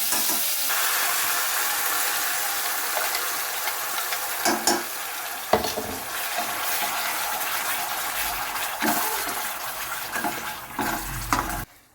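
Steady sizzling of food sautéing in butter and oil in a hot pan for paneer butter masala, broken by occasional clinks and scrapes of a spoon stirring, with no voices.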